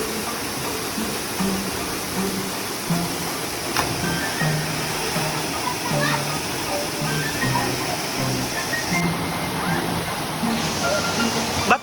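Beto Falls, a waterfall on Mt. Kapigpiglatan in Zambales, gives a constant broad rushing roar of falling water, steady and close, with faint voices mixed in.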